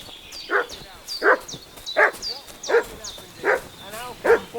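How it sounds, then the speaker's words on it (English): A dog in a medieval village in Kingdom Come Deliverance 2 barks repeatedly at a steady rhythm, six or seven sharp barks over a low background. "What's that dog making such a fuss about?"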